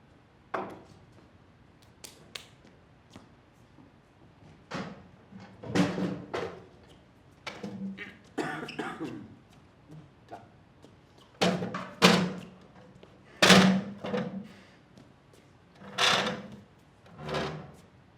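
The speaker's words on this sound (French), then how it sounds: "Timothée, tu peux me prendre 2 chaises là, s'il te plaît?" Chairs are fetched and set down on a stage in front of an audience, with a series of wooden thunks, knocks and scrapes at irregular intervals, some of them sharp and loud, with no talking.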